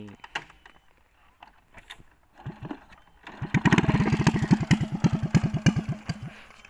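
A Honda Wave 110i motorcycle with its exhaust pipe removed, first a few starter attempts and then the engine firing into a loud, raw, rapid popping idle with sharp revs, close by.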